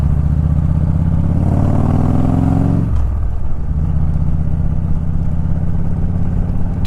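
A 1998 Harley-Davidson motorcycle with an Evo engine runs close by, a loud, deep, throbbing rumble that drops abruptly in pitch midway and then settles into a lower, steady idle.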